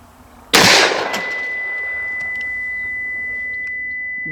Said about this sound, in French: on va voir ce que ça donne avec une balle de 38